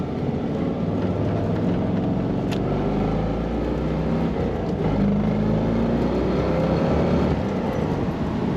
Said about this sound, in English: Great sound on the exhaust of this car.